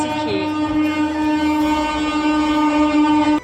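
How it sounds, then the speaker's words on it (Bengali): A train passes close to a rooftop, its horn sounding a loud, sustained blast for about three seconds over rail rumble before cutting off abruptly. "ছাদে উঠে তো একটা কথাও বলা যায় না, কারণ ট্রেন এত যেতে থাকে"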